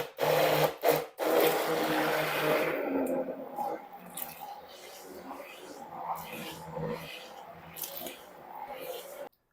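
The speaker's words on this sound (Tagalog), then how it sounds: "So, gagamit ako ng emulsion blender." An immersion blender whirs through grated cassava cake batter, loud bursts of rough buzzing at first that settle into a softer, uneven grinding with brief pauses and occasional clatter.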